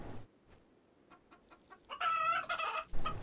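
A Rimworld game chicken clucks in a quick, fairly close run of calls that grows denser and louder partway through.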